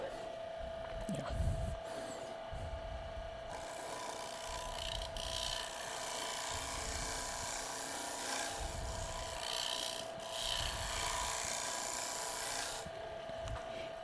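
A large gouge cuts into a wooden bowl spinning on a lathe at a turning club meeting, giving a steady close rasping hiss with regular low thumping pulses, and occasional faint voices in the background.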